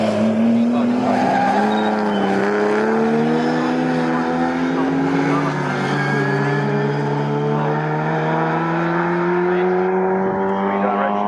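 Classic pre-1963 and 1950s racing cars pass at Snetterton circuit, their loud engines howling in a sustained, steady roar with rising and shifting pitch as the field goes by, amid tire squeal.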